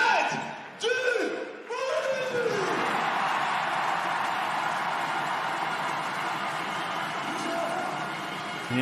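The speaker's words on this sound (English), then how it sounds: "The MC whipping the crowd up here in the arena." A crowd in a basketball arena during a EuroLeague women's game between Tango Bourges Basket and CBK Mersin roars steadily under an MC's booming amplified voice, the noise swelling after a few loud opening calls.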